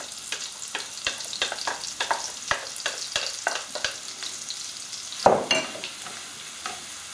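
Onion frying in oil and melted butter in a pan makes a soft steady sizzle, broken by regular sharp taps and scrapes of a utensil and one louder clatter near the end.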